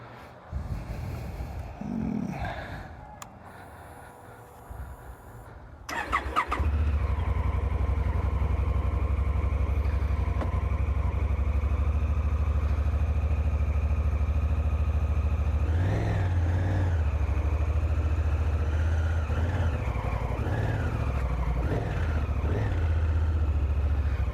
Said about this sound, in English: We're taking the Africa Twin out for a little spin tonight.